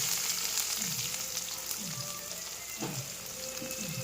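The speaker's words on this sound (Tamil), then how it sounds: "ஆனியன் பெரிய சைஸ் வந்து 2 எடுத்துருக்கேன். இதை நல்லா ஃப்ரை பண்ணி எடுத்துக்கலாம்." Onions fry with mustard seeds in oil in a kadai, giving a continuous dense sizzle like light rain, steady and fairly soft throughout with faint low thumps underneath.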